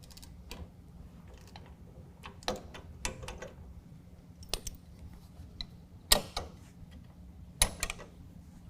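A torque wrench tightens T30 bolts to 70 inch-pounds on an A.R.E. DoubleCover tonneau cover fitted to a 2019 Ram 1500, giving scattered sharp ratcheting clicks close by over a quiet background.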